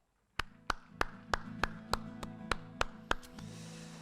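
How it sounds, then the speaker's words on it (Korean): A church youth-service congregation claps in unison, about ten sharp, evenly spaced beats at a brisk steady tempo, faint and set over a low sustained musical tone. "그 하나님께 영광의 박수 드리겠습니다"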